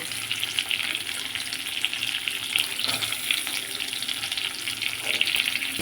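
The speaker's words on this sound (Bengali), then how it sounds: "পেঁয়াজটাকে ভালোভাবে আমি ভেজে নিচ্ছি" Sliced onions frying in hot oil over tempering spices, seasoned with a little salt and sugar. A continuous bright, hissing sizzle sounds close and fairly loud, with no voices over it.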